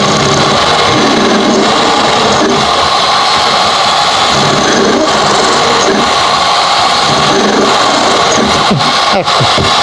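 Flexible-shaft rotary tool at low speed drilling a Vespa Dell'Orto SI 24-26 carburetor with a 1.7 mm bit, a loud continuous whirring grind with rhythmic rubbing swells and a faint voice underneath.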